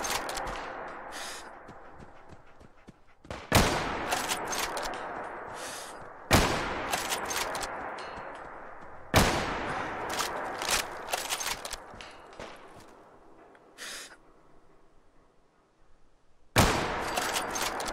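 Gunfire in Fallout 4, heard as repeated loud bursts of shots separated by short gaps, each burst starting sharply and trailing off, with quieter scattered pops between and no talk.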